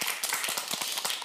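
An audience claps briefly, a modest patter of distinct hand claps in an uneven rhythm, fairly quiet and short.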